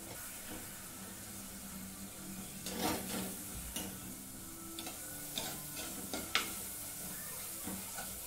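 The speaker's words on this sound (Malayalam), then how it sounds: "നമുക്കിത് നന്നായിട്ട് ഉടച്ചെടുക്കണം, നല്ലപോലെ ഉടച്ചെടുക്കണം." Tomatoes are mashed in a pan for a Kerala-style pearl spot fish curry. A soft steady sizzle runs under scattered scraping and pressing strokes from a spoon against the pan, fairly faint, with no talk.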